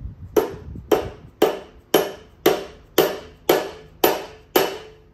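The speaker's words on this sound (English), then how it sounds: "So I'm going to use my dead blow hammer." A dead blow hammer strikes nine times at a steady pace, seating a part onto its pins on a Simpson 4400 psi pressure washer pump with a GX390 Honda engine; each blow is a sharp, close knock with a brief ring.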